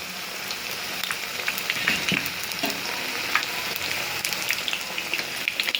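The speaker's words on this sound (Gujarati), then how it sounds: "અને આને હું તળવા દઈશું" Pineapple jalebi frying in hot oil, a dense, continuous crackling sizzle with fine popping spatters throughout, close and steady, with no voices.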